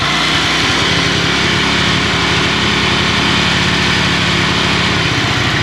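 A Ducati Monster 600 twin idles loudly on choke, its timing-belt covers still off, with a steady, close, throbbing engine note that holds throughout and has no talk over it.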